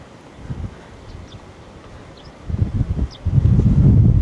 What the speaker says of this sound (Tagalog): Ang lakas ng hangin. Kita nyo yung mga dahon.